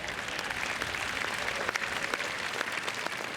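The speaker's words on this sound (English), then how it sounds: "go ahead and clap" Dense applause from a crowd in the stands at an outdoor tennis hall of fame induction ceremony, a steady wash of many hands clapping for the full stretch at moderate distance.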